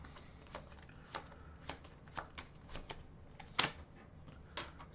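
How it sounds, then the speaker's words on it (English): Playing cards riffled and shuffled by hand during a Marvel Champions tabletop game, a series of crisp, papery bursts in an uneven rhythm, close and quiet with no talk. "Shuffle into the invocation deck."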